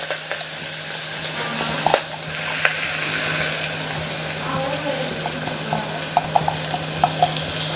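Onions, curry leaves and green chillies frying in oil in a pan give a steady, dense hiss with occasional small scraping clicks, plus a low electrical hum running underneath throughout.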